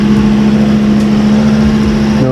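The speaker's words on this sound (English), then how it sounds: "does have a nice little exhaust leak." A 2005 Volvo S40 2.4L engine idles with a small exhaust leak after an oil change, giving a steady, close, loud droning hum with a slight rough pulse throughout and no voices.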